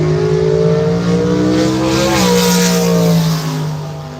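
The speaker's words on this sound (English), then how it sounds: "I know that the car is running around." A drag racing car's engine runs and revs at a race track, a loud, close, sustained tone that rises and shifts pitch midway before easing slightly.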